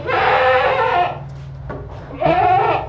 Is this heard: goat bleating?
yes